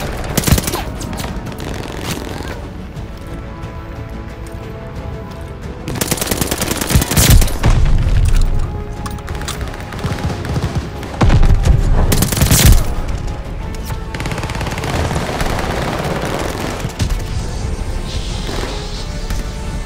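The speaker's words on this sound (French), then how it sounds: "Alliés envoient une bombe planante." Call of Duty Vanguard multiplayer match with rapid gunfire and heavy glide bomb explosions, bursts of automatic fire punctuated by two big booming blasts amid continuous battle noise.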